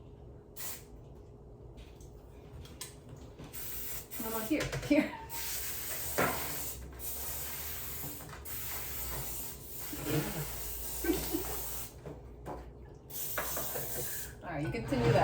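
Cooking oil spray hissing from a can in bursts while baking at home, several short sprays spread across the scene amid kitchen clatter, with people talking between and over them.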